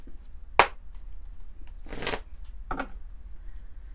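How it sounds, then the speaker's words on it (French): Oracle cards are shuffled and drawn in a quiet room: a sharp snap, then a brisk papery riffle and a shorter flutter of cards, close and fairly soft, with no talk. "On va prendre quelques cartes de l'oracle de la fée Laura."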